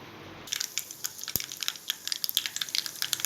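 Mustard seeds spluttering in hot oil for curd rice: a dense, close run of sharp pops and crackles starting abruptly and continuing rapidly and irregularly, with one louder snap early on.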